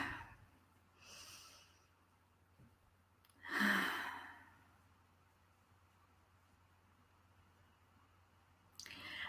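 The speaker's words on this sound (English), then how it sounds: "Just start by taking a deep breath in." A deep breath drawn in during a seated, calm meditation, a soft close inhale swelling around the middle, with fainter breaths before and after in a quiet room.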